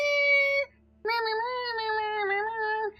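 A cat gives two drawn-out meows, a short one followed by a longer wavering one after a brief pause, close and clear with no other sounds around them.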